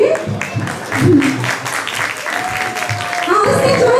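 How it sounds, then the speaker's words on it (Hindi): An audience claps and cheers in a lively burst at an Independence Day event while an emcee talks over the noise. "एक बार जोरदार तालियां बजा दीजिए"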